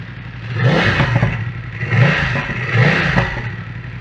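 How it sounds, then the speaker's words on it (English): A BMW F750/F850/F900 motorcycle engine runs near and loud, swelling in three broad rises and falls as it is revved up toward operating temperature, with no talk over it. "we need to run our engine. So we're going to run our engine all the way up to operating temperature"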